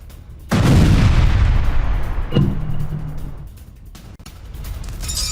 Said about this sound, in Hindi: जिस इमारत पर यह गिरता है वहां पर एक जोरदार धमाका होता है, जबरदस्त विस्फोट होता है